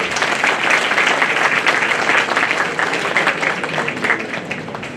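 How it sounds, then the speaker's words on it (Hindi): Students in a classroom or hall clap loudly for themselves, a thick, continuous round of applause from a group that holds steady for several seconds before easing a little. "एक बार अपने लिए जोरदार तालियां बजा।"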